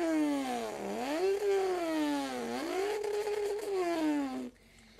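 A voice imitates an import race car engine, making a loud, close buzzing whine that climbs, dips and climbs again like revving through gears, then cuts off abruptly.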